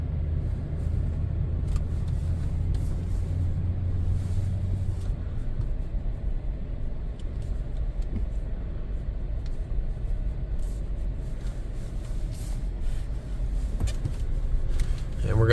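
Steady low rumble of a 200 Series Lexus LX570 driving on the road, constant road and engine noise heard from inside the cabin with no clear speech.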